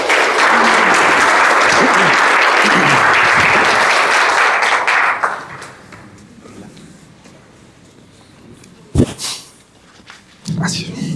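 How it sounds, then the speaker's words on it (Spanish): Loud, dense applause from an audience at a public presentation of a charging-infrastructure plan in Antofagasta, Chile, many hands clapping for about five seconds before fading into near quiet broken by a few brief knocks and shuffles. "Un aplauso para todos ellos"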